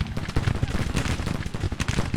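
Dense, rapid gunfire from Civil War troops in the strategy game Grand Tactician: The Civil War, with overlapping shots and crackling volleys that continue without pause.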